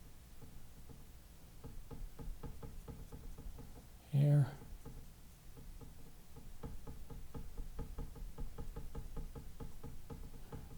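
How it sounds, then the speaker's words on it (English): A painting board knocks once, briefly and loudly, as acrylic paint is worked on with a palette knife, standing out over steady background music with a few spoken words nearby. "My board is knocking a little bit."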